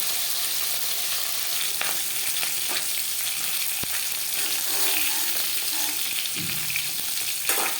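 Fish shallow-fried lightly in oil in a pan for a summer fish curry, with a steady close crackling sizzle throughout and occasional sharp pops and stirring clinks, no voices.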